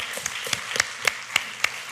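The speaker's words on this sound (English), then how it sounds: "I would like to invite a round of applause, warm applause to our panel" A sparse round of applause follows a conference panel session, a few distinct nearby claps landing at uneven intervals over a quiet room murmur.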